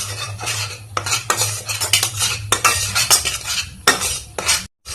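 Spices fry over medium heat in a pan for a fish curry while a utensil scrapes and clinks against the metal in quick, irregular strokes. A soft sizzle runs underneath, and no one speaks.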